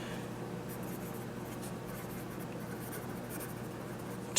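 A Guatemalan plastic extruded pencil with a blunt, flattened tip scratches steadily across paper in a continuous, close, soft rubbing stroke with no talk.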